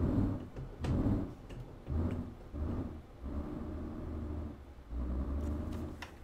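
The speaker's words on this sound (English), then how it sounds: "it's a very sort of deep engine note" Deep engine note of a Volvo FH13 truck hauling a 17-ton load in Euro Truck Simulator 2, a low rumbling drone that swells and dips in several pulses, moderately quiet and steady.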